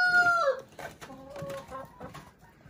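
Chickens on a farm during feeding give off close, clear clucks: a drawn-out call, then several short, choppy clucks with quiet gaps between them.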